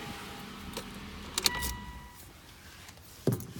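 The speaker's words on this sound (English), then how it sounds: "I'm going to shut this vehicle off." A 2017 Mitsubishi Outlander ES engine shutting off, a low idle rumble fading away, with a brief jangle of keys and a short electronic chime, then a soft thump near the end.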